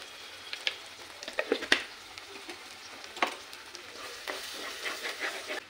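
Masala for a restaurant-style cashew curry sizzles and crackles steadily in oil, with scattered scrapes and clicks of a spoon stirring it in the pan; fairly quiet and close, with no voices.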